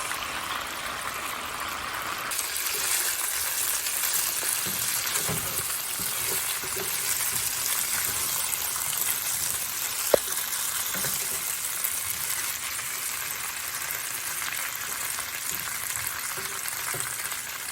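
Pork chops frying in a pan with onions and garlic, a steady, even sizzle and crackle holding at moderate loudness throughout, with no talking.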